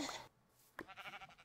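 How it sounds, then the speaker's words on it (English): Two sheep bleats from the video game Minecraft, played in the Tekkit Legends modpack: a short bleat at the start, then after a pause a sharper bleat that trails into a wavering, pulsing cry, close and clear with no talking. "Die, you damn sheep."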